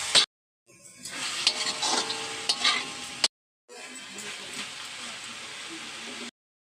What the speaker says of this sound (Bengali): আবারও দিয়ে অল্প অল্প করে জল দেবো আর সুন্দর করে এটাকে কষাবো।